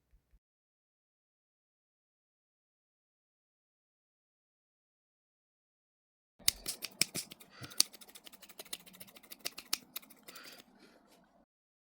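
After several seconds of silence, scissors snip crocheted hat yarn in a quick run of sharp, close clicks and cuts.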